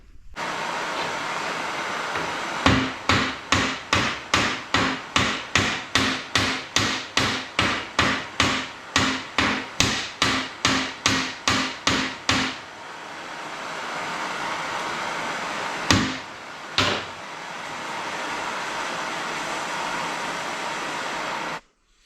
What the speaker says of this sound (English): let's go and do some hammering.